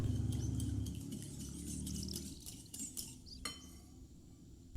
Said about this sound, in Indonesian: Aduk lagi menggunakan whisk sampai tercampur rata.